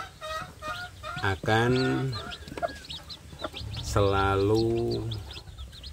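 Native village chicks cheep in small, high, scattered peeps, close by and fairly soft, running beneath someone talking.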